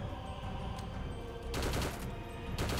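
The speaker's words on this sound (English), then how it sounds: "give the Soviet faction the RVS-30H semi-auto rifle, also capable of firing full auto" An RVS-30H semi-auto rifle from the Heroes & Generals game fires in rapid bursts, loud dense cracks running together in quick full-auto strings with a short pause between them.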